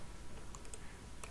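A few sharp key presses on a computer keyboard, close by, over a low steady background hum.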